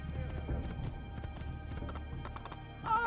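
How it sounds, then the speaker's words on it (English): Galloping horse hooves clip-clop steadily in Assassin's Creed 2 gameplay, a quick rhythmic beat with a brief whinny and game music layered over it. "Get on the damn horse, that's you."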